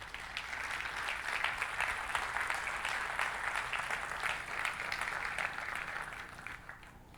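Sustained applause from a church congregation, a dense steady clapping that fills the space for several seconds before tapering slightly at the end, with no voices over it.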